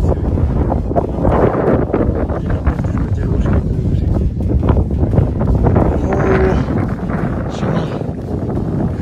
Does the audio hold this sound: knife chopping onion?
no